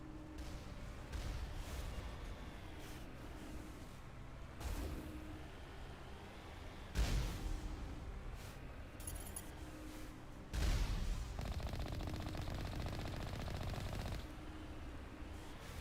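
Gunfire in the video game Mass Effect aimed at the player, with bursts of shots and impacts over a continuous rumbling game soundscape, sharp loud hits around the middle and later, no talk.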